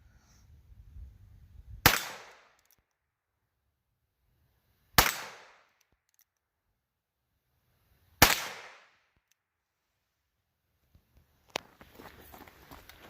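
.22LR rifle firing high and hyper velocity loads over a chronograph outdoors, three sharp, loud cracks spaced about three seconds apart, each with a short decaying echo, then a fainter fourth report.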